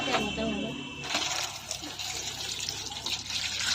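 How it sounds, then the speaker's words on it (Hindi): Water poured while preparing a desi-style tandoori fish, a rushing splashy stream from about one second on, close and steady, with someone talking over it at the start. "पानी डाल"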